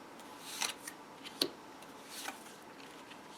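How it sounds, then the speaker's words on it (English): Animal Totem Tarot cards are handled and dealt onto a table, making faint, crisp snaps and soft slides spaced a second or so apart in a quiet room. "So first I will deal out these cards, make sure they're all on the screen."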